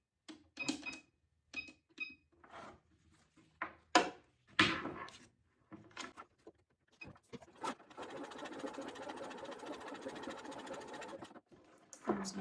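A sewing machine stitches a pistol sling and holster. Short stop-start bursts of needle clatter and fabric handling come first, then a sustained run of rapid stitching, close and fairly faint.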